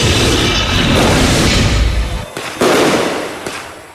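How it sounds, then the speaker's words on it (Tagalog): Fireworks crackle and boom in dense bursts at a cemetery during an All Saints' Day observance in North Cotabato, with a brief lull before another loud volley of crackling explosions. "Sinalubong ng magarbo ang fireworks display ang pagunita ng mga taga-mid North Cotabato sa Undas"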